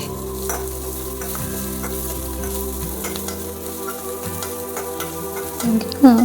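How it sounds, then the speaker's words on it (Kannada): Red chillies, garlic and ginger are dry roasting in a pan for chicken sambar, giving a soft continuous sizzle with light stirring scrapes. A steady hum runs underneath, and a louder clatter comes at the end. "ಇದನ್ನು ನೀಟಾಗಿ ಬ್ರೌನ್ ಕಲರ್ ಬರೋ ತನಕ ಅದನ್ನು ನಾವು ಡ್ರೈ ಮಾಡಬೇಕಾಗುತ್ತೆ"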